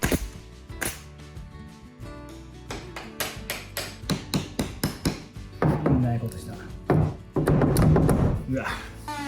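Nails are hammered into the wooden framing of a closet wall, heard as a run of sharp, close knocks that come in quick series, with people talking between and over the blows.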